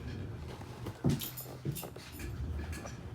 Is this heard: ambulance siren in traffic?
no